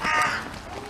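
A crow gives a single harsh caw, fairly close and loud, with nothing else around it.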